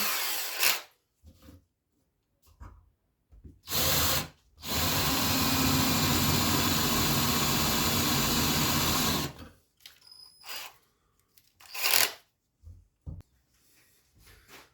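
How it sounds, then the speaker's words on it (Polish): A power drill with a small bit whirs steadily for several seconds drilling screw holes, preceded and followed by short bursts of drilling and handling clatter. "Zacznę sobie mniejszym wiertłem."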